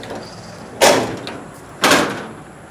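Two sharp rattling bangs, about a second apart, come from the door of a Lance snack machine as it is released and swung open, close and fairly loud, with no talk.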